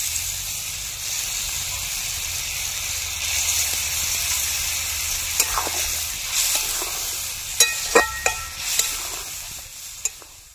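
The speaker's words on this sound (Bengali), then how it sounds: "এতে আমি ডিমগুলো দিয়ে দেবো। ডিমগুলো দিয়ে ফুটিয়ে নেব।" Duck eggs simmer in a bubbling egg curry, a steady wet hiss and sizzle with scattered pops and a few sharper clinks near the end, fairly close and moderate in level, with no talking.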